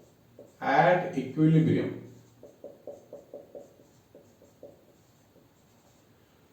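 A marker or chalk taps and strokes in a quick, broken series of short scratches on a classroom board during a physics lecture on hydrostatics, following a brief burst of someone talking.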